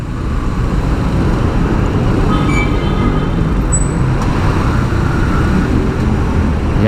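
Steady, loud street traffic near an LRT station, with engines rumbling and vehicles passing close by, a faint horn or brake squeal cutting through briefly.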